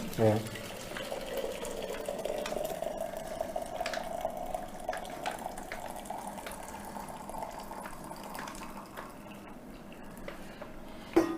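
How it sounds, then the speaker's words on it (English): Hot water pours from a flask into a cup for coffee, a thin, steady trickling stream that runs for several seconds and then gives way to faint clicks and small handling sounds. "I pour in my hot water."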